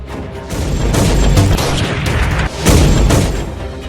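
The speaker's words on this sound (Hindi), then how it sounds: "ये सरेआम फायरिंग की आवाज कहीं और से नहीं बल्कि नगर थाना क्षेत्र के छोटी कल्याणी स्थित अमर सिनेमा रोड में आइकॉन टावर बिल्डिंग से आ रही थी" Gunfire at night near the Icon Tower building on Amar Cinema Road in Chhoti Kalyani, sounding as loud, dense rolling bursts of shots with booming low end, a brief dip midway and no talk.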